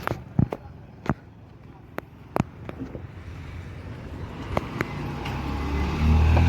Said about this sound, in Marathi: मन्या सुरू आता गाडी करतात.